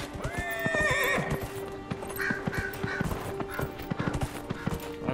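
A horse in Dragon Age: Inquisition gives a loud whinny at the start, then its hooves clip-clop in a quick, steady galloping rhythm, close and clear.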